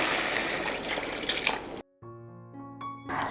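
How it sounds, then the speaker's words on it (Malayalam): Thin second-press coconut milk poured into a Kerala chicken stew, a steady liquid splash and gurgle for about two seconds that cuts off into a short tonal gap before the pouring resumes. "തേങ്ങയുടെ 2ാം പാലാണ് ചേർക്കുന്നത്."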